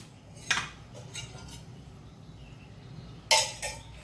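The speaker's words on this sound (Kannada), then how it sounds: "ಇದರಲ್ಲಿ 1 ಚಮಚದಷ್ಟು ಎಣ್ಣೆಯನ್ನು ಹಾಕ್ಕೊಳ್ತಿದ್ದೇನೆ." A spoon clinks against a frying pan as a spoonful of oil goes in for a Karavali-style radish sasive: two short metallic clusters, close and fairly quiet, with a hushed pause between.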